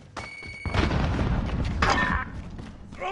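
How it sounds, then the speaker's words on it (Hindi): Grenade explosion in Call of Duty Warzone: a heavy boom with a rumbling tail, mixed with other game effects and brief metallic tones, heard fairly close. "throwing grenade"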